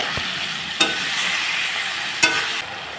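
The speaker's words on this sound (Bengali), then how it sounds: "আমি এখন ভালো করে মশলাটাকে কষিয়ে নেব" A spice mix with tomato, potato, peas and green chillies frying in a pan, with a steady close sizzle and a couple of sharp stirring knocks against the pan.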